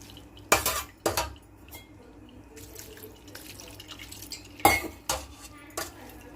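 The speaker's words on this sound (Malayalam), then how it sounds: "ഇതിലേക്ക് നമുക്ക് കുറച്ച് ഐസ് വാട്ടർ ഒഴിച്ചിട്ട് വാഷ് ചെയ്തെടുക്കാം, അല്ലെങ്കിൽ ഇത് സ്റ്റിക്കി ആവും." Cooked noodles are rinsed with ice water in a strainer over a sink, with a few sharp splashing pours and metallic clatters separated by quieter trickling and dripping, close and moderately faint.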